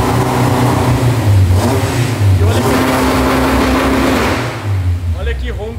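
A VW Gol with a naturally aspirated 2.0 engine revs hard on a dynamometer, its loud roar climbing and holding in pitch before easing off near the end, with a voice talking over it.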